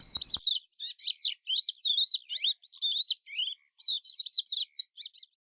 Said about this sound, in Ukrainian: В своїх піснях жайворонки частенько наслідують інших птахів.